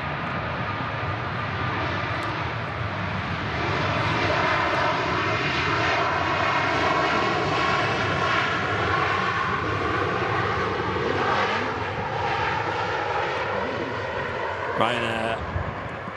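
A Ryanair Boeing 737 MAX 8 arriving at Manchester Airport from Copenhagen gives a sustained jet engine roar that swells and holds for most of the stretch, with a person talking over the noise.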